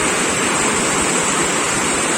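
Loud rushing water roars where the Beas and Manalsu rivers meet near Manali, a dense, continuous torrent heard close up with no other sounds.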